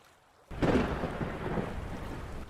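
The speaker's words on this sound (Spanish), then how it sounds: "Hubo un estruendo en el cielo, y al levantar la vista pude ver relámpagos rojos entre las nubes" Deep thunder rolls across a stormy sky, bursting in loud after half a second of near silence and rumbling on steadily with rain-like noise beneath it, no voices present.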